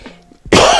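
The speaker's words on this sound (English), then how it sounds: "Didn't mean to cough in your ear." A man coughs once, loud and close to the microphone. The sharp burst comes after a brief quiet pause and cuts off at the end.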